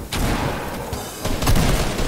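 Gunfire in the video game Fortnite comes in several sharp bursts, with one near the start and a louder cluster about a second in, over a dense busy game background.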